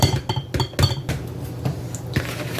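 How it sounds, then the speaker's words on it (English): Blender shifted across a kitchen counter while making banana bread, a run of sharp hard knocks and clinks of glass and metal, close and fairly loud, coming in quick uneven bursts. "And I'm going to move my blender out of the way so it's not in my way."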